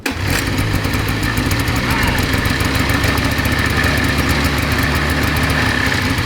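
A 440cc two-stroke go-kart engine runs steadily and loud and close throughout, with a dense buzzing drone and rapid firing pulses, and no pauses.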